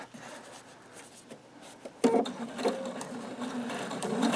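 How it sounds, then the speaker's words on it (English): A sewing machine stitching a seam in fabric, starting quietly and then running in a steady rapid mechanical whir that grows louder toward the end. "And I'm going to sew all the way to the end."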